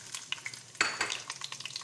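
Whole spices, cloves and cardamom among them, sizzle and crackle in hot oil in a pan for chicken biryani, with a stirring scrape and sharp spattering bursts close by and no voices.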